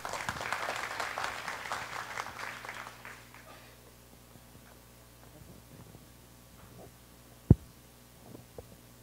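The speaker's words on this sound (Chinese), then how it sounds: "请大家热烈掌声欢迎。" Applause welcoming a speaker at a youth working-holiday information session in Taipei: a burst of clapping that fades out over the first few seconds, leaving a quiet room with faint hum and a single sharp knock near the end.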